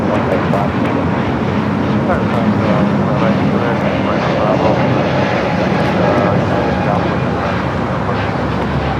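An airliner takes off from runway 25 left at Los Angeles International Airport, a steady loud roar of engine noise that fills the whole stretch without letup.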